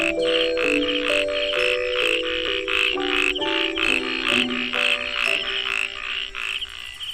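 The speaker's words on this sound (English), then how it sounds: "Resident frogs keep the summer season hopping with their whimsically husky croaks." Frogs in a grassy marsh in Kenting, Taiwan, give husky croaks in summer. Many calls overlap in a dense, continuous, rhythmic chorus with loud pulsing repetition.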